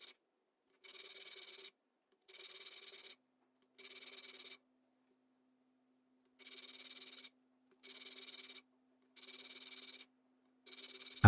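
Two flat stones ground against each other by hand in the Whitworth lapping method, giving repeated rasping strokes in regular bursts with short pauses between them, close and moderately loud, with no talking.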